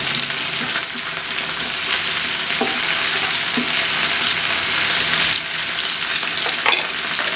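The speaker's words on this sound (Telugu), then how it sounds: "ఉల్లిగడ్డ ఇలా బాగా ఉడికిన తర్వాత, కలర్ మారిన తర్వాత ఇందులోకి ఎండుమిరపకాయలు, కరివేపాకు వేసుకొని బాగా కలపాలి." Onions, dried red chillies and curry leaves fry hard in hot oil for a drumstick-leaf curry, with a loud, steady sizzle and occasional scrapes of stirring throughout.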